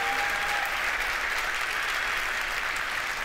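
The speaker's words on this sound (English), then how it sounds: "a big applause for all the entrepreneurs" Sustained applause from a full-room audience cheering entrepreneurs at the 4YFN Awards in Barcelona, a dense, steady wash of clapping that holds evenly from start to finish with no voices over it.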